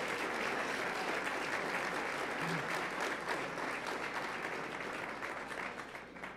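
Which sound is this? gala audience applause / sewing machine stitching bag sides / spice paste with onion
gala audience applause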